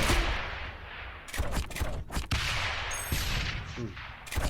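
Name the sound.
mortar towers firing in the video game Rogue Tower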